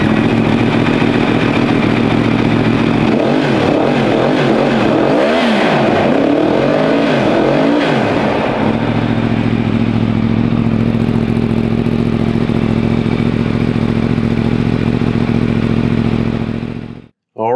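A 2018 Yamaha YZF-R1S with a cross-plane crank four-cylinder engine starts up and runs close by, with a few loud throttle blips early on before settling into a steady, rumbling idle.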